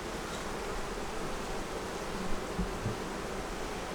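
Honeybees at a hive with brood, pollen and nectar, in changed weather with bees falling off, hum in a steady dense buzz throughout, close and continuous with no talking.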